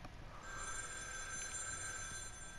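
An old telephone rings inside a dark, eerie game world in The Evil Within 2. The ringing is faint and distant, with a thin, steady trill over low background hiss and no talking.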